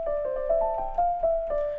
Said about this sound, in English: I'm thinking we start with some kind of like a soft piano type of a sound that sounds like this.